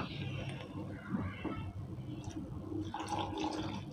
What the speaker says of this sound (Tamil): இப்போ தண்ணி கொதிக்குதுங்க, சிம்மில் வச்சுட்டு ஊற்றிக்கோங்க,